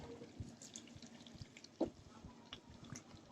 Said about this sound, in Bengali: এখন সবগুলো গরম পানি দিয়ে দিব এখানে